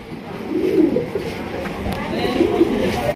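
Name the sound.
pigeons cooing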